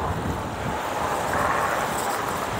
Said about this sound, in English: Wow, it's a very fresh air and good breeze.